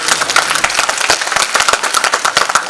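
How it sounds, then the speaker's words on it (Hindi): An audience claps loudly after a stage play, with dense, uneven clapping that stays close and steady the whole time and no voices above it. "एक बार जोरदार तालियां।"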